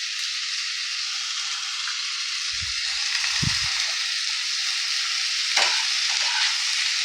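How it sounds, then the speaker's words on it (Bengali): Potatoes frying in a pan for an aloo gajar sweet, a steady broad sizzle running throughout, with a few low stirring knocks and scrapes of the spatula midway. "এবার আলুটাকেও আমি ভালো করে এর মধ্যে ফ্রাই করে নিচ্ছি।"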